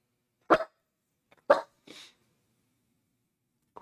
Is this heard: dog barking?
yes